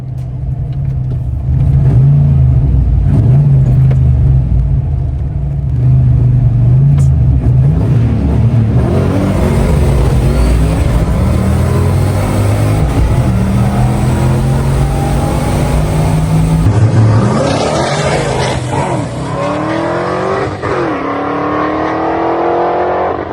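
Loud engines roar and rev hard, rising in pitch as drag cars, including a turbocharged Foxbody Mustang, launch and accelerate down the strip, with a second wave of revving toward the end.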